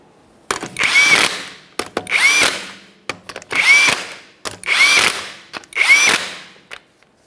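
An impact tool runs 21 mm lug nuts onto a wheel of a 2011-2020 Toyota Sienna minivan, giving five loud, close whirring bursts, each about a second long and separated by short pauses.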